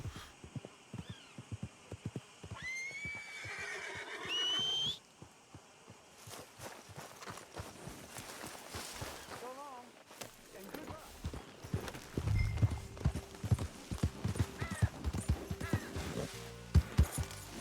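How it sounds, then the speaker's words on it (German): Hooves clip-clop steadily over ground with a horse whinnying partway through in Red Dead Redemption 2, mixed with game sound effects, faint overall with voices nearby. "Treibt sich das Pferd schon wieder rum."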